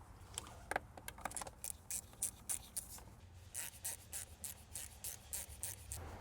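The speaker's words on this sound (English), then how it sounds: "I'm gonna secure the bolts and see what's gonna happen." Intake manifold bolts on a Mercedes-Benz ML350 W166 being tightened, quick faint metallic ratcheting clicks in irregular bursts, close up with no talking.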